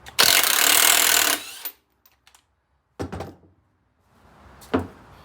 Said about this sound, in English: Now using a 22 mil, pull your flywheel nut off.